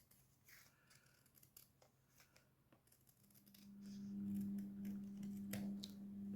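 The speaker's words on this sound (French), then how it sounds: "mais vous pouvez les couper au ciseau aussi" Scissors snipping paper strips for a handmade folding fan, quiet close-up snips spread across the clip over a faint background hum with no talking.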